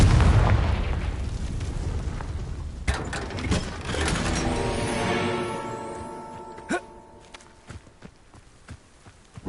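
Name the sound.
Confringo fire spell blast, video game Hogwarts Legacy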